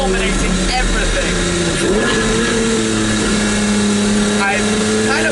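Loud, dominating engine of a Maserati MC12 heard from inside while driving, a steady droning roar with shifting pitch as it pulls along, unbroken and close for the whole stretch.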